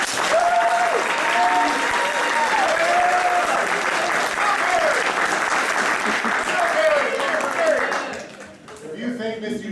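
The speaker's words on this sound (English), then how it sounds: "if you think that Miss Eugenia Mama Bear is guilty of the crime of killing Walter White, clap on 3" An improv theatre audience claps to cast a vote on a mock courtroom verdict, producing a loud, dense burst of sustained applause with overlapping cheers and voices that fades out near the end.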